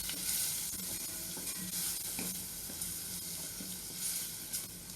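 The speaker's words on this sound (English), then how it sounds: "I am going to remove all of that by continuing this sauteing process now." Palak paste sautéing in a pan gives a continuous close hiss and sizzle, broken by soft scraping stirs every second or so as the moisture cooks off.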